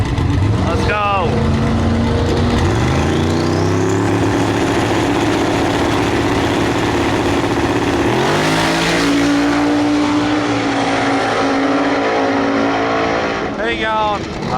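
Drag race between a shiny Chevy Nova and a turbocharged Mustang in a street car class, with engines droning loudly throughout and revs rising and falling as the cars launch and pull away.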